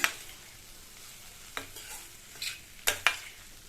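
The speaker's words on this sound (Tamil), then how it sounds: "உருளைக்கிழங்கை சேர்த்துட்டு இந்த மசாலாவோட நல்லா இந்த மாதிரி பரட்டி விட்டுக்கணும்" Mashed potatoes stirred into masala in a pan for a spicy potato curry, a quiet background of soft scraping with a few sharper spoon knocks against the pan, no talking.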